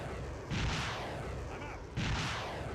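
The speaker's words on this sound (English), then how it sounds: "Well, I'm gonna give them some artillery." Two heavy booms of video-game artillery fire land about a second and a half apart, each a broad rumbling blast over a constant noisy battlefield din, without speech.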